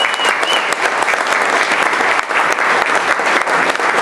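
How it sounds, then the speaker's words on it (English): Loud, dense applause fills a school winter assembly hall for the fourth graders, a continuous close wash of many hands clapping at once. "So perhaps give them a warm round of applause already."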